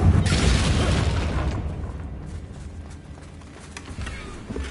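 A Confringo blasting spell in Hogwarts Legacy wrecks a bridge with a loud, close explosion that opens in a heavy boom and trails into rumbling, crackling debris for several seconds.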